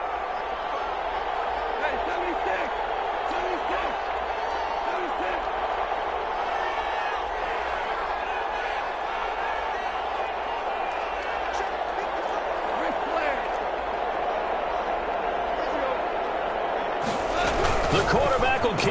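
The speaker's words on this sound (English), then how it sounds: "Listen to this crowd now" Football stadium crowd at a Rams versus Raiders game during a two-point conversion attempt, a steady loud roar throughout that swells sharply with a burst of cheering near the end.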